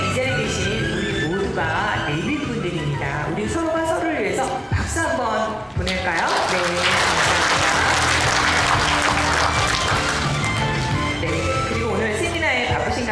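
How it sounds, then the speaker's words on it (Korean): Audience applause at a seminar forum in a youth culture center hall, swelling into sustained, dense clapping after a stretch of speech, loud and close. "우리 서로가 서로를 위해서 박수 한번"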